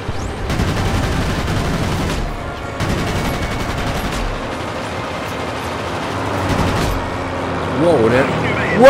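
Heavy cannon fire from an aircraft in the video game World of Warplanes, sounding as loud rapid bursts and volleys over a constant engine drone, with a voice talking over it.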